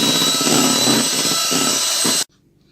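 Electric beater whipping a chocolate ice cream mixture, a loud, close, high-pitched motor whine with grinding texture that runs steadily for about two seconds and then cuts off abruptly.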